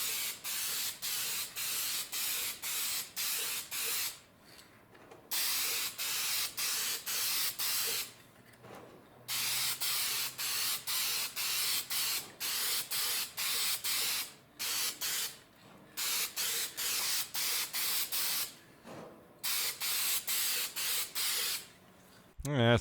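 Aerosol spray paint hisses onto a PVC pipe bird feeder in long bursts with brief gaps, close and steady, while a person talks now and then.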